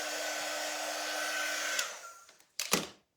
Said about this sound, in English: If you guys haven't seen this heat tool, it has two different settings.